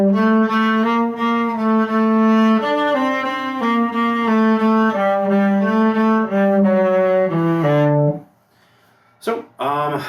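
Solo cello plays a Suzuki Book 3 Gavotte in C Minor passage in first position, a steady run of bowed notes with clear harmonics for about eight seconds, then stopping, followed by a brief quiet pause and a couple of short sounds.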